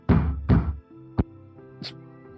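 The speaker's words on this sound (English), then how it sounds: "you start to hear a banging coming from inside the Hellride" Banging from inside the Hellride: two heavy, close thumps in quick succession, then a lighter knock and a faint tap, with a low hum lingering between them.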